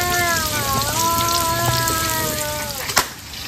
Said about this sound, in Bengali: তো প্রথমে আমি আলুটা ভেজে নিচ্ছি।